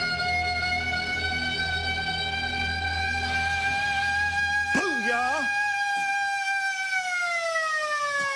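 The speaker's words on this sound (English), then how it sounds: "I'm gonna sound the siren." A loud wailing siren sounded at the Old South Pittsburg Hospital, a steady tone that sweeps and wobbles midway and then settles at a lower pitch, with people speaking underneath.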